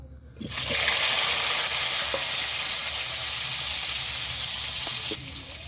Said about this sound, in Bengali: এবার তেলের মধ্যে আমি আলুটা হালকা করে একটু ভেজে নেব